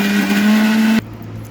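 A kitchen mixer grinder whirs loudly with a steady high motor tone while blending green chillies for chilli paste, running for about a second before cutting off abruptly.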